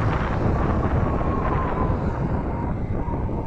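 Steady, blustery wind roaring across the microphone on a ride in Angono, Rizal, a broad continuous rumble with no pauses.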